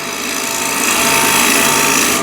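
A shear scraper rides across spinning wood on a lathe while turning a container from a plate and bowl blank, producing a loud, steady, hissing rasp that holds even for a couple of seconds.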